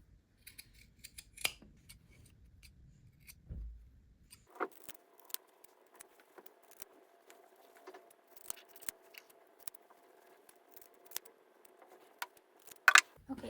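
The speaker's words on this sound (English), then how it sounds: "I would cut on the side of the bias binding to make sure that you're not snipping through the seam" Fabric scissors snip through four layers of cloth beside bias binding on a homemade cloth pad. The snips are close and quiet, coming as scattered single cuts over a hushed background.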